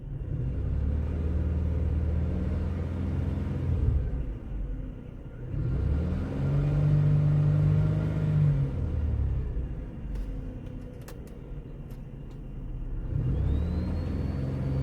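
Car cabin with steady engine rumble and a faint electrical whine from aftermarket radio wiring, swelling and fading in waves over about fifteen seconds, no voices.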